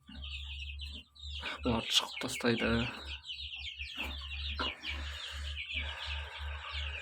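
Young chicks and hens of the Kuchinskaya Jubilee breed chirp and cluck in a busy, overlapping chorus close by, with high peeping throughout and a person speaking briefly over them.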